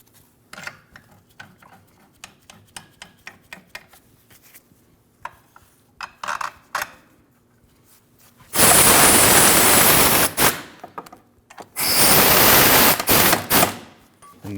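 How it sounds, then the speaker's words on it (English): A ratchet tightens the rear differential bolts on a 2012-2016 Honda CR-V, heard as a series of light rhythmic clicks close up, followed by two long loud rushing bursts of broadband noise. "Now you install your two rear differential bolts."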